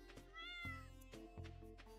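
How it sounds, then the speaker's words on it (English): A cat named Marmalade in the game Stardew Valley gives a few soft, quiet meows over steady game music with plucked notes; there is no talk. "Marmalade cat."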